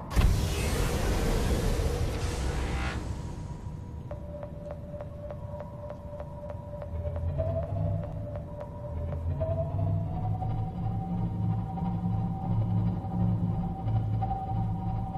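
The Cyclops submarine's steering powers up in Subnautica: a steady electronic hum that rises in pitch and swells, with soft rhythmic pulses, heard alone at steady volume.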